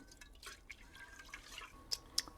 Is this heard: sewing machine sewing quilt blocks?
no